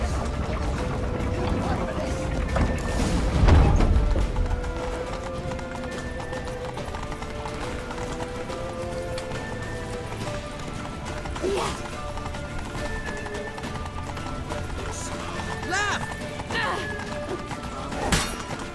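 Hooves clip-clop at a steady gallop in The Witcher 3 under continuous game music and shouted dialogue, with occasional whinnies and clashing effects.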